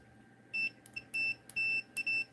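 A multimeter in continuity mode sounds four short, clear high-pitched beeps in quick irregular succession as probes touch a capacitor's terminals, with faint clicks between them and no talking.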